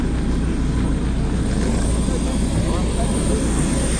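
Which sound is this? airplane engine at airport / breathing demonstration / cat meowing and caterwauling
airplane engine at airport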